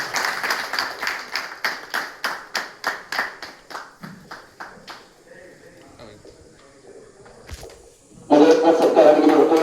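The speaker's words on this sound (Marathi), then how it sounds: "टाळ्या बरोबर म्हणजे टाळ्या मित्रांनो." Audience claps at a village felicitation ceremony held during a blood donation camp in Sindhudurg, honouring guests with shawls and mementos. Rhythmic, evenly spaced claps ring out near and loud, fade into quieter talk, then give way to a burst of dense applause.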